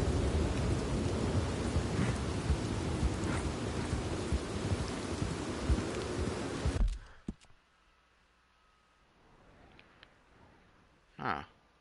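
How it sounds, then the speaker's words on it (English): A heavy thunderstorm with rain in the video game Red Dead Redemption 2 roars loudly as dense, steady downpour with rumbling thunder, then cuts out to near silence with a few faint clicks and a short sharp sound. "God, this is a heavy storm."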